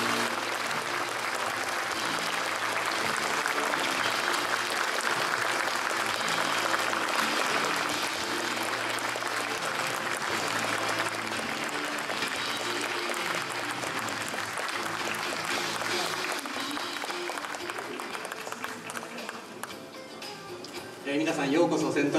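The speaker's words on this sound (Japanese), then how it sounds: "どうぞ拍手でお迎えください。" Sustained audience applause at a Boeing 787 ZA001 arrival event at Centrair airport, welcoming three captains who flew its last flight. The clapping is dense, loud and steady throughout, then thins and shifts near the end.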